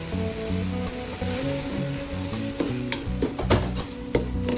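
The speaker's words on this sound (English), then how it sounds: "I'm just going to stir this and I'm going to allow to cook." Okra soup base with stockfish and crayfish is stirred in a pot, giving a soft sizzle with scraping and clicking spoon strokes that grow busier toward the end, over steady tonal background music.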